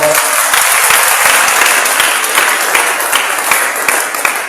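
A church congregation applauds together, loud, dense clapping from a full room that swells quickly and carries on steadily before tapering slightly.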